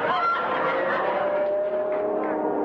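A single drawn-out, goose-like honking bird call sound effect sustains for nearly three seconds, loud and close, with no voices.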